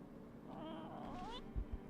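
A cat in the game No, I'm Not a Human gives a wavering, caterwauling meow lasting about a second, followed by two soft low thumps, over a faint steady background.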